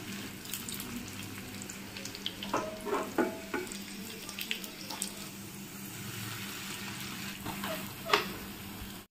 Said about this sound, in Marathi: या गवाराच्या शेंगा ज्या मला खूप आवडतात खायला, थोडंसं तेल आणि मीठ टाकून मस्त फ्राय करून घेतल्या